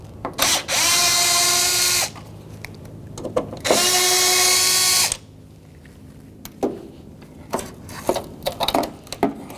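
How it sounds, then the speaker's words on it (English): Power driver spinning out the two Phillips mounting bolts on a 1984-2001 Jeep Cherokee parking light, two steady whirring bursts of about a second and a half each, close and loud, followed by quieter clicks and handling. "Phillips screwdriver, there's 2 mounting bolts."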